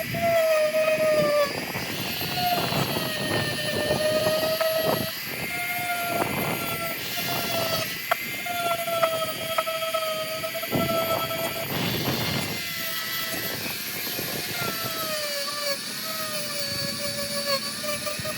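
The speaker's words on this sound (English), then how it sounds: "So let's start dremeling this bad boy real quick." A Dremel rotary tool grinds on a custom Hot Wheels Ferrari, a steady high-pitched whine that wavers as it bites into the die-cast metal, with bursts of gritty grinding noise throughout and no talking.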